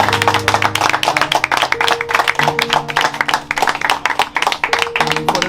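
An audience claps continuously in loud, dense, uneven bursts, with music or tonal sound running underneath.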